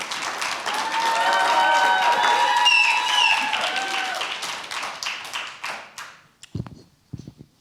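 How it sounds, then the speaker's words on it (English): An audience claps and cheers for the guests of an evening conversation event, a loud sustained burst that thins into scattered individual claps and taps before fading out. "Let's give them a round of applause for joining us tonight."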